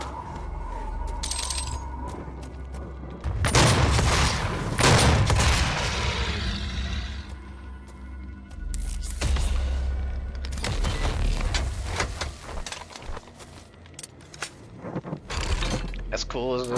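Gunfire in the first-person shooter DOOM (2016) on Ultra-Nightmare, loud bursts of shots with impacts and explosive booms layered over game sound effects and music.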